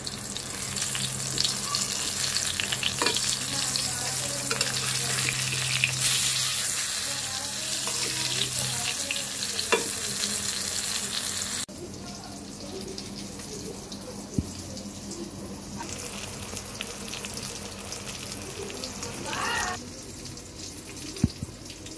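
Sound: eggplant slices frying in oil

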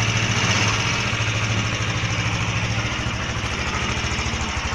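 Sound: motorcycle engine running after partial engine rebuild

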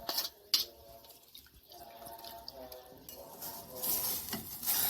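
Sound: roasted chicken added to a pot of chicken-bone soup

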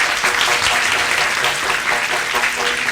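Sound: children's applause

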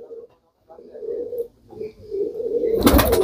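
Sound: pigeons cooing

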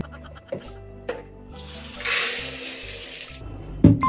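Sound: water poured to soak soybeans for tempeh

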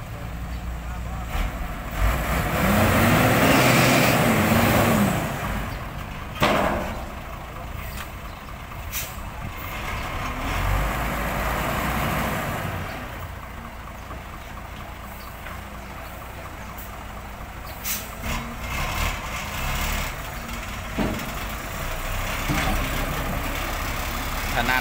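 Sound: ten-wheel truck engine straining in mud, reversing

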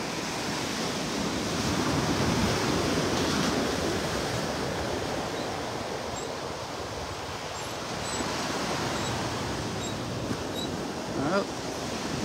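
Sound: waves and surf on North Hutchinson Island beach, Vero Beach

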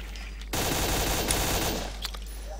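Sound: gunfire in the video game Stalker Call of Pripyat

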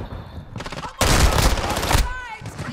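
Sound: sniper rifle gunfire in Call of Duty video game

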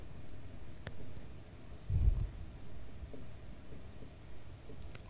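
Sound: writing on a board or paper

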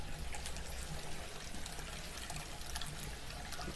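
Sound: water flowing through a homebrew counterflow wort chiller

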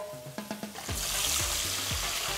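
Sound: fish frying in hot oil

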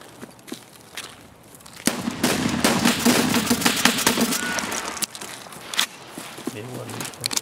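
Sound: gunfire in the video game Escape from Tarkov

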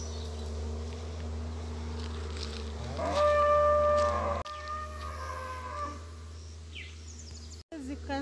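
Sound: cow mooing

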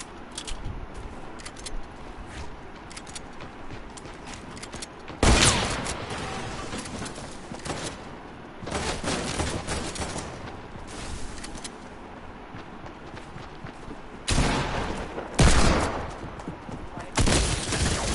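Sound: gunfire and shotgun shots in the video game Fortnite

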